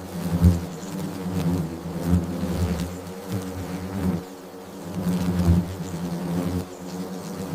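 Paper wasps swarm in a thick, close buzzing drone that rises and falls in waves throughout, with no voices.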